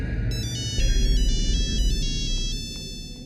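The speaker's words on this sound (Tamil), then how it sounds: "எவ்வளவு நேரமா அடிக்குது தெரியுமா? என்னோட ஸ்டூடெண்ட் தான் ஃபோன் பண்றான்." A mobile phone rings with an incoming call, its electronic melodic ringtone repeating in bright, evenly stepped tones over a steady low background hum, clear and fairly loud with no talking.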